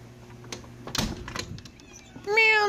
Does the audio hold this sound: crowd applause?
no